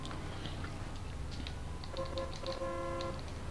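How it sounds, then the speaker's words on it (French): Car horn honking at a police officer in the video game Mafia II, several short steady tones sounding around the middle of the clip over a constant game background rumble. "On klaxonne le flic."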